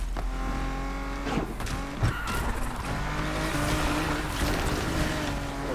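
A Nissan 370Z Nismo drifts in Need for Speed, its engine droning loud and steady with harmonic whine while the tires squeal and scrub, one sharper thump partway through.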